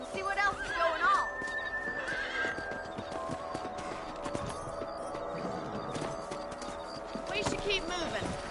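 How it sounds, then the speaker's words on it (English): Horses in the Red Dead Redemption video game clip-clop along in a steady galloping rhythm, with a loud whinny near the start, under background game music and ambience. "Let's get back on the horses and see what else is going on."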